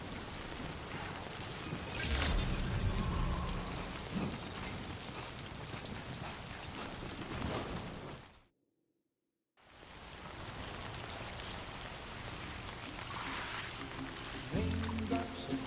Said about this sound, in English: And the raindrop will begin.